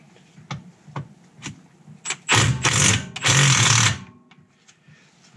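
An impact wrench hammers at a nut on the downpipe of a BMW N54 engine in a 335i, with two loud, close bursts of rapid rattling in the middle and quiet clicks and shuffling before and after.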